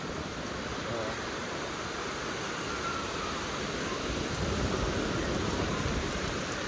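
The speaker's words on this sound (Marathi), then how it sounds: "पाऊस जाम आहे" Heavy rain pouring down outdoors in a steady, dense roar of falling water and drops striking surfaces, continuous and close with no clear gaps.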